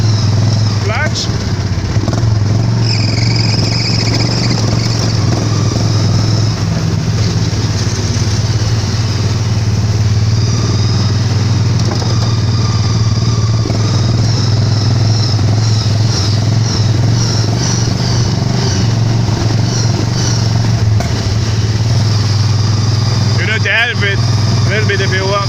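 Hot rod engine running steadily with no clutch, driven only on the gas pedal, a loud continuous low rumble that persists throughout with slight revving, while a person talks over it.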